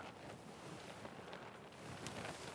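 Strong wind buffets a cliff-top winter hammock camp in the Lake District, a continuous broadband roar with gusts rising and falling, faint and close to the microphone.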